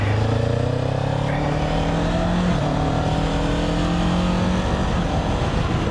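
A Kawasaki Ninja 7 Hybrid motorcycle with automatic clutch pulls away from a stop in first gear, its engine note climbing steadily and loud and close, with a brief dip partway through as it accelerates.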